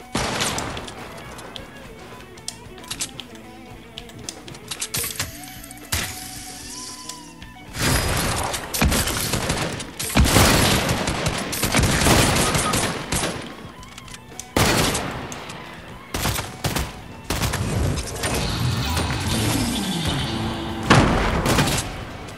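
Gunfire in Fortnite, dense bursts of shots and booms that come and go through the clip, loud and close, with rapid volleys and heavier blasts in the second half and game sounds throughout.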